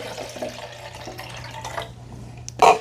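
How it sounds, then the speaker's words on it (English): Water is poured into the reservoir of a Keurig K-Mini Go coffee maker during descaling, making a steady soft trickle over a low hum, with a brief louder splash near the end. "All right, let's pour just the water in."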